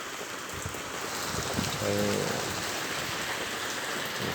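Steady rain falling on surfaces around a home in the evening makes a dense, even hiss of drops that holds constant throughout, with a brief faint tonal sound midway.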